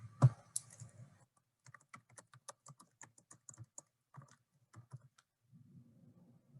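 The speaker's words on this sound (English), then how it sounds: "I'm typing too fast today." Rapid bursts of typing on a computer keyboard, close and crisp, with irregular clusters of key clicks and brief pauses between them.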